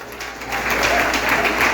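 A church congregation at a family service claps together, a brief burst of crowd applause that swells after a moment and stays fairly loud.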